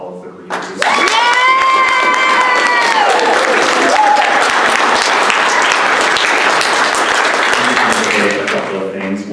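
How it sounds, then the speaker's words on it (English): An audience at a senior reading event applauds the readers with loud, sustained clapping and some cheering, a voice and tones briefly heard at the start before the dense applause fills the rest. "Can we please have a round of applause for all of the readers?"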